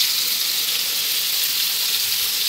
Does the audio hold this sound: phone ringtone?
no